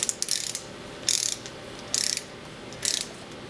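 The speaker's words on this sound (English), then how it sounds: "just kind of going back and forth across the port cover, just sequentially increasing the torque on the bolts." Bolts on a gauge port cover being tightened in sequence with a ratchet, heard as four short bursts of close metallic clicking spaced about a second apart over a quiet background.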